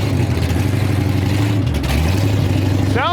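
A big block Ford-powered C10 truck revs hard at a drag strip start line, a loud, deep engine roar with steady harmonics, rising in pitch near the end as the throttle opens, close and continuous.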